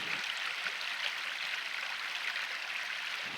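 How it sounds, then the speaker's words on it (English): A small trickle of water runs in a slate quarry in Eryri (Snowdonia) on a calm, windless day, a soft, steady hiss that stays quiet and continuous throughout. "Just hear this trickle of water behind me here."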